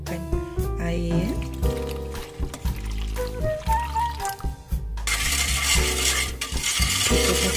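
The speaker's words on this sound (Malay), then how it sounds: "Dan kita masukkan air." Water is poured into a vanilla and coconut milk pudding mixture in a pot, with clinks and knocks of utensils first, then a steady splashing pour in the last few seconds, close up.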